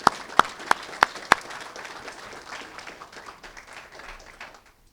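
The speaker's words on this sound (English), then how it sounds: "round of applause again for all of our students" Scattered, fairly faint applause from a school science fair audience honoring students, opening with a few sharp individual claps and then thinning and fading out to near silence.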